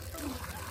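Water trickles and splashes steadily as it is poured into a bucket during a game, a close, continuous liquid sound.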